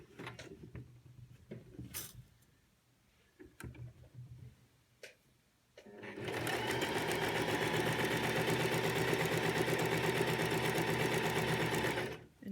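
A sewing machine runs steadily, stitching elastic onto a cloth mask; after a few quiet handling clicks it starts and whirs continuously at close range for about six seconds, then stops.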